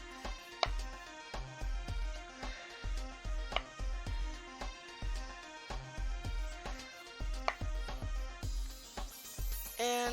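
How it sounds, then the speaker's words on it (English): A knife chops portobello mushrooms into quarters on a cutting board in a home kitchen, giving a steady run of crisp, close knocks in an even rhythm with no talk. "I'm just quartering these portobellos."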